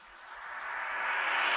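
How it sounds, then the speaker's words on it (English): A rising synth riser builds steadily in loudness and brightness over a faint pulsing low beat, sweeping up as the tension mounts ahead of the drop in a UK drill beat. "here we have a riser"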